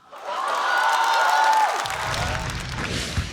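At a Chinese stand-up comedy show, a studio audience applauds to welcome a comedian, a dense wash of clapping and light cheering that rises quickly, holds steady for about three seconds and starts to thin near the end.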